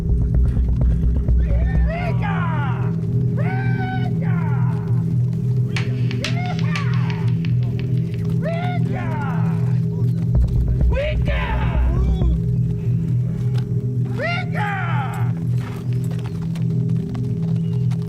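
A group of horses carrying about thirty riders approaches in a staged audio drama, with continuous clip-clop hoofbeats, several loud whinnies spaced through the scene and a steady low rumble underneath, while voices are also present.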